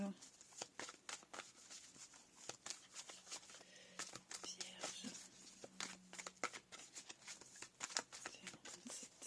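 A tarot deck being cut and shuffled by hand makes quick, crisp card snaps and riffles in irregular clusters, close but quiet, with a soft voice talking underneath.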